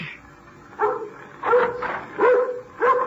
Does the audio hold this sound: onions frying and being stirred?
no